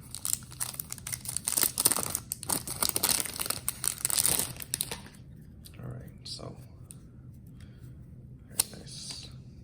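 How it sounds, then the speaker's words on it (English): A Cardfight!! Vanguard card pack wrapper crinkles and tears in dense, close bursts for several seconds, followed by quieter, sparse rustling and handling. "All right, let's open up the cards and see what's inside."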